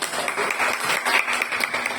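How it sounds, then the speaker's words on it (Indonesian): A room of teachers applauds Pak Mukti at a school training session, steady crowd clapping held at an even level for about two seconds with no voices over it. "tepuk tangan untuk Pak Mukti"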